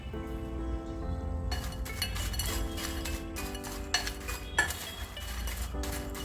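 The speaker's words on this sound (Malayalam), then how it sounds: "ഇതിലേക്ക് കുറച്ച് ഉപ്പും കൂടി വെതറിയ കൊടുത്ത ശേഷം നമുക്കിത് നന്നായിട്ടൊന്ന് ഇളക്കിയെടുക്കാം" Fried sweet potato being stirred with salt in a metal vessel, giving clinks and scrapes of a utensil against the pot at close range, with faint background hum and no speech.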